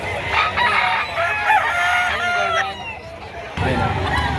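A rooster crows loudly nearby, with clucking and someone talking in the background; the crow cuts off sharply near the end.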